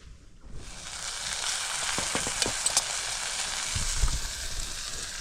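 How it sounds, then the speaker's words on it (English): Bacon sizzling in a pan on a Trangia camping stove during a wild camp, a steady crackling hiss with a few louder pops and scrapes of stirring, and no voices. "Should have said we're starting with the bacon first, then the onion."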